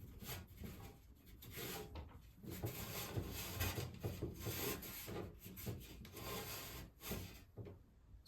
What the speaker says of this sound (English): just wiping with a rag is not going to be entirely effective